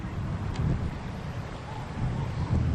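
Steady low wind rumble buffets the microphone outdoors on a golf course during a professional women's championship round, a continuous broadband roar with gusty swells and no speech.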